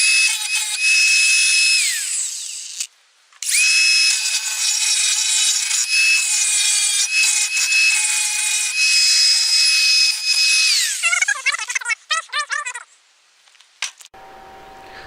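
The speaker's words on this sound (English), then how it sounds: "I'm going to go ahead and grind that down." A power grinder works down a sharp corner on the rocker panel of a 2006 Chevrolet Silverado, with a loud, steady high-pitched whine in long runs, a brief pause, pitch shifts, then sputtering bursts as it winds down.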